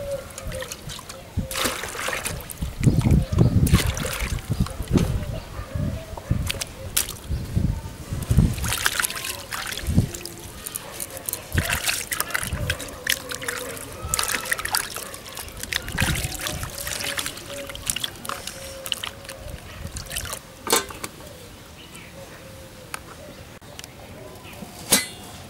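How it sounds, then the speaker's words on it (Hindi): Pieces of petha, the ash gourd sweet of Agra, are washed by hand in clean water in a kitchen bowl. Steady sloshing and trickling water runs throughout with occasional splashes and light clinks of a vessel, fairly close. "तो इसे हम साफ पानी से धोते हैं अच्छे से।"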